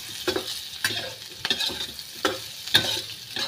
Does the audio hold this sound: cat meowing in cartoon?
no